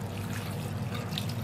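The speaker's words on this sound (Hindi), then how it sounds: "साथ में इसमें जाने वाला है पानी" Water poured into lentil dal with chili, turmeric and ginger-garlic, a soft continuous trickle and splash, quiet and close.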